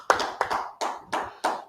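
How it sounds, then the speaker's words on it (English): A group of men at a brotherhood class clapping hands together in a steady rhythm, five sharp, evenly spaced claps with no talk over them. "Y'all clap it up."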